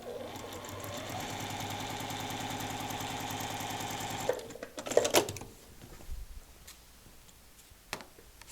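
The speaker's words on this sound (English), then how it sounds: "I brought this machine and I'm going to stitch" Sewing machine stitching a paper-pieced quilt block, a steady rapid mechanical ticking that runs evenly for about four seconds, then stops, followed by faint handling rustles and clicks.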